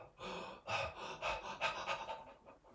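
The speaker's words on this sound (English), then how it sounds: "In yoga, you do a lot of breath of fire, and you wiggle the abdomen like that when you inhale." Rapid breath-of-fire yoga breathing, a run of sharp, forceful nasal exhales in an uneven rhythm, close to the mic, with no talking.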